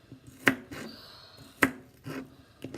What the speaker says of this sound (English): So I'm just cutting onions again.